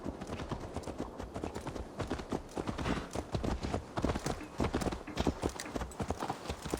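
Horse hooves clip-clopping steadily at a walking pace in the video game Assassin's Creed Valhalla, a quick, continuous clatter heard close with faint ambient background.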